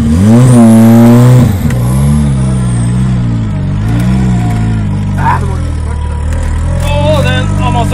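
A car engine revs hard and then settles to a throbbing idle, a high turbo whistle rising and fading over the first seconds, all loud and close with a brief higher whine near the end.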